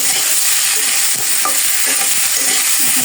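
Potatoes and green chillies stir-fried in a pan, a steady close sizzle and frying hiss running throughout with light scraping stirs of a utensil.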